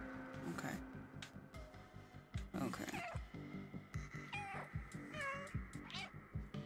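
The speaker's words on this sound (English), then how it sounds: "the meow button is just too much fun" In the game Stray, the cat meows repeatedly through its meow button, several short cries scattered over a busy, loud game soundscape, with a person talking at times.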